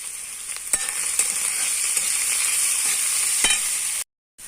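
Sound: banana flower sautéing with salt and turmeric

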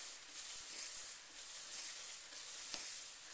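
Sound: wet sandpaper rubbed back and forth on lacquer finish

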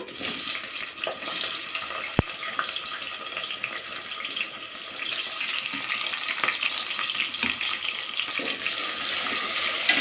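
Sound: chopped onions frying in hot oil

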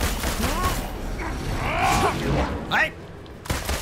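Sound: gunfire in Marvel's Avengers video game

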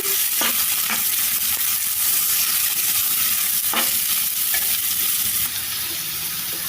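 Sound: ivy gourd pieces stirred and frying in a pan

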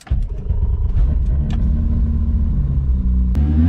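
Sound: car being driven away

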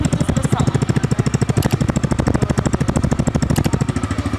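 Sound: TVS Raider 125 motorcycle engine running

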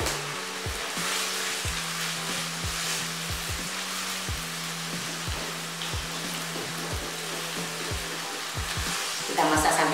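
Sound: tempeh filling cooking in a pan until dry

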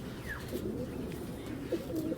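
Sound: pigeons cooing

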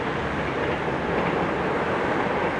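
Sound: train passing

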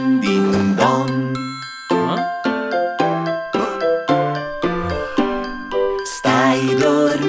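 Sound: ringing bell in a children's song

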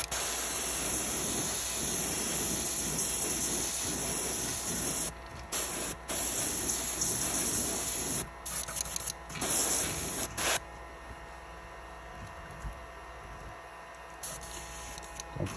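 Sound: airbrush spraying Comart transparent orange paint

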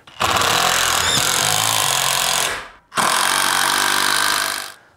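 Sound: power drill drilling holes into a wall

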